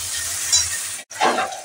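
A tomato and ginger paste is stirred in a hot pan, giving a soft continuous sizzle broken by a brief gap, then a short scraping stir; quiet and close, with no voice.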